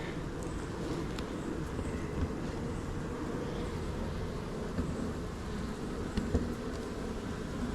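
A steady, dense buzzing of many honeybees around a hive fills the air continuously, with a few brief louder bumps and taps close by.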